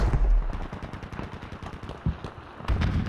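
Gunfire in the World War II shooter Battlefield V, a rattling burst of rapid automatic shots with a few heavier booming reports, close and loud throughout.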